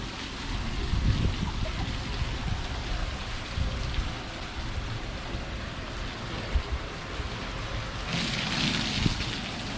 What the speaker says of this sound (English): Okay, so there's the water wheel.